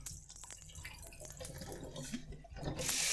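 Raw chicken wings rinsed under a running kitchen tap, a steady close splash of water in a sink that swells louder toward the end, with small drips and knocks along the way.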